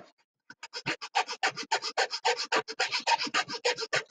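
A hand saw cuts a miter joint across the wood grain, giving a close, steady run of rhythmic rasping strokes, about twenty in quick succession after a brief silent start.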